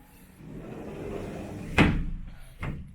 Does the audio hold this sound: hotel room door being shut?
yes